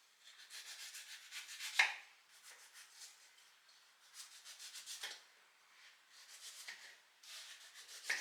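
Vegetables are cut on a board in soft, rhythmic bursts of scraping and slicing, quiet and close, with short pauses between strokes and a sharper knock near the start. No voices are heard.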